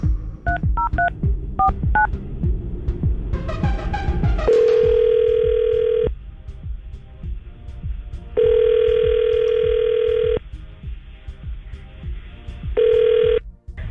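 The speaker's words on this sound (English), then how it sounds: "see if we can get her on the phone." A telephone call being placed: a quick series of touch-tone dialing beeps, then a ringback tone sounding in three long bursts separated by pauses, with faint background noise and no talking.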